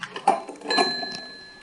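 A small old service bell, a worn call bell in a manor house, gives a few faint, weak rings with a short shimmering tail, heard close and alone.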